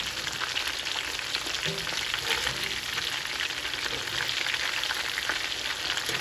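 Korean sweet and spicy fried chicken sizzles steadily in hot oil, a dense, continuous crackle and hiss at close range with occasional soft stirring sounds, no voices.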